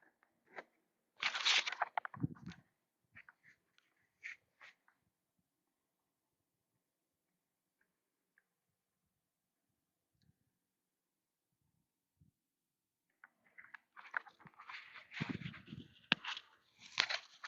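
Bacon and a Brussels sprout are chewed with close, crisp crunches in two bursts, an early loud bite and a longer stretch of crunching later, separated by near silence.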